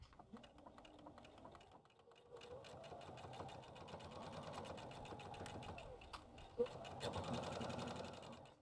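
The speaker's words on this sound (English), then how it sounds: "you're going to stitch 1/4 of an inch on either side of your strap. Let's go ahead and do that." A sewing machine stitches along a tote bag strap, a steady rapid mechanical whir that builds and holds, with a brief pause and restart, heard close and fairly quiet.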